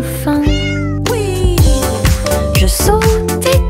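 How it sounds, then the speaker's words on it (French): A cat meows loudly and repeatedly up close, several rising and falling cries in quick succession over a bright backing track in a children's nursery song. "Le chat se rassemble avec des griffes silencieuses."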